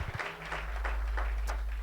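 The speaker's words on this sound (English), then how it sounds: "Can we clap hands for Jesus?" Church congregation at a Sunday service clapping hands in rhythmic bursts over a heavy low rumble, the claps fairly muffled and roomy rather than crisp.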